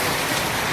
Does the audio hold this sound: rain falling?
yes